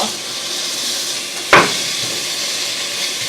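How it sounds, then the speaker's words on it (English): Beef drops into a hot pan with browned garlic and hits it with a sudden sharp hiss, then a steady loud sizzle continues close up. "Now that there's a little bit of color on the garlic, I'm going to put the beef in."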